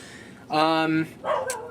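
A dog gives two close, clear barks: a longer tonal one, then a shorter yelp-like one after a brief pause.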